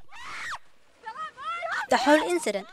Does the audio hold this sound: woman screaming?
yes